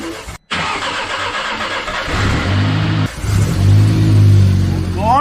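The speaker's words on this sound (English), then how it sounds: "Start your new engine" A newly installed engine in a wrecked Mini John Cooper Works cranks and catches, then settles into a loud, steady idle with a brief rev, while excited voices shout over it.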